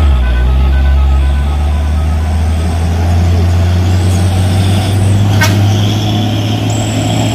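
A stalled truck sits on a steep hill road at Bukit Kodok under a loud, close, continuous engine rumble, with a hiss of air brakes and faint high reversing beeps through the clip.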